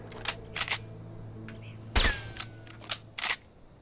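Video game gunshots sound as a handful of sharp cracks in quick bursts, some ringing with a short metallic tail, spaced over a few seconds.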